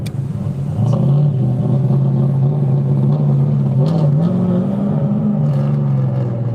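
Nissan S14 set up for drag racing on big, fat rear tires, its engine droning loud and steady with a rising rev near the start, passing on a street with no talk.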